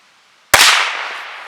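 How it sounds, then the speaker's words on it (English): A single loud gunshot from a Henry Octagon Frontier lever-action .22 rifle fired outdoors near a dead tree, a sharp crack out of near-silence followed by a fading ringing tail. "I'm going to fire the gun"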